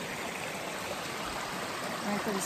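Steady broadband rush of spring water flowing, close and continuous, like a small stream running over rocks, with faint voices toward the end; in Virginia.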